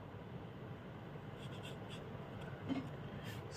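Pen scratching across paper while a Vashikaran yantra is drawn by hand, a soft continuous scraping over a low background hum, with one slightly louder stroke near the end and no voices.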